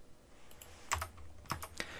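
Soft key taps come from a computer keyboard as a number is typed and Enter is struck to run a C program. A few quiet, close clicks sound over faint room hiss.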